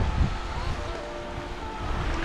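Wind gusting over a beach at Cabo Pulmo, Mexico, a steady rushing roar with low buffeting on the microphone and surf mixed in beneath.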